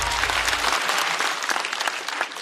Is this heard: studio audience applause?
yes